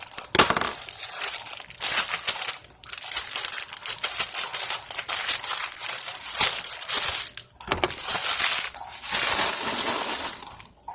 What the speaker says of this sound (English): I need to get scissors to cut my egg roll wrapper.